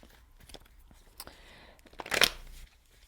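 Tarot or oracle cards are shuffled close by for a reading, giving soft riffling and flicking with one louder rustling burst near the end.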